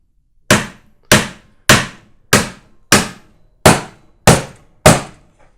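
A hammer drives nails into a wooden sloping beehive stand with eight sharp, evenly spaced blows about half a second apart, each ringing briefly before the next, close and loud with no voices.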